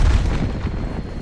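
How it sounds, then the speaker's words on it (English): A frag grenade explodes in Call of Duty Black Ops Cold War, a deep, loud boom with a rumbling low-end tail that fades over about a second. "Throwing frag grenade."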